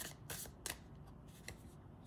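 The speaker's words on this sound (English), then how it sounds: "Let's take some oracle cards for you." Oracle cards being shuffled by hand for a tarot reading, giving a few soft riffling bursts and light card slaps over a faint steady background, close and fairly quiet, with no talk.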